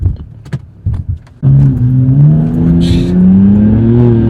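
A BMW engine revs up loudly under acceleration, its rising drone steady after a short burst of engine noise and brief lulls, with a lag at each gear transition; no one speaks.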